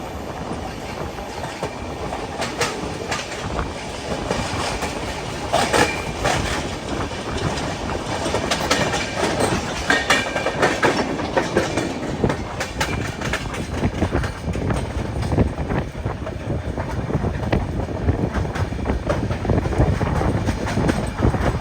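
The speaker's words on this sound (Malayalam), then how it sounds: "ഓങ്കോൾ റെയിൽവേ സ്റ്റേഷനിലേക്ക് ഇതാ നമ്മുടെ ട്രെയിൻ എത്തിയിരിക്കുകയാണ്" The Patna Express rolls into Ongole railway station, a loud sustained rumble of rail wagons with clickety-clack wheel beats and faint squeals building over about twenty seconds, no talk.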